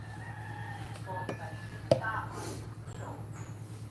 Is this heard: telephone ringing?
no